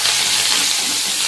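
Curry leaves and dried red chillies dropped into hot oil hiss in a loud, steady, close sizzle with no pauses.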